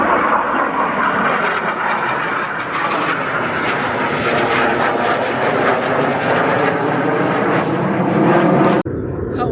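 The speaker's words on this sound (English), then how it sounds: "Aircraft taking off" Aircraft of a three-ship formation taking off near Skurugata Gorge in Sweden, a loud sustained engine roar filling the scene steadily, cut off abruptly near the end.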